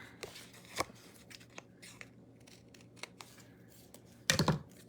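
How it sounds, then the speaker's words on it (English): Scissors snip quietly through decorative paper overhang on a card panel in a few scattered cuts, ending with a louder burst of crisp crunching snips close by. "I'm going to trim this overhang off with my scissors"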